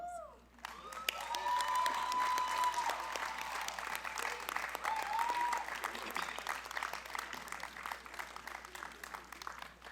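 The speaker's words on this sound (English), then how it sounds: "Would all student video speakers please stand for another round of applause?" A large audience at a 2022 high school graduation ceremony breaks into sustained applause, dense clapping and some cheering filling the hall at a steady level for the full stretch before tapering slightly.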